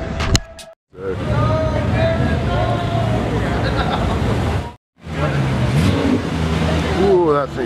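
A car engine revs hard at a street car gathering, a loud close roar that swells and holds, breaks off, then returns, with crowd chatter and voices mixed underneath.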